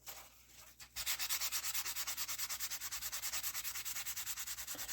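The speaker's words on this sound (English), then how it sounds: "we start out with the, what is it, the 400, and just start wet sanding it" Wet sanding with 400 grit paper on a part from an ATC200x restoration, a steady, close back-and-forth rasp in an even rhythm of about eight strokes a second, starting after a short quiet pause, with no talk.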